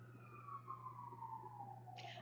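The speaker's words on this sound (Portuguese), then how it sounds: "Lá vem a sirene." A faint emergency siren wails steadily in the distance, a single sweeping tone that slowly descends, over a low constant hum, with a brief burst of hiss near the end and no voices.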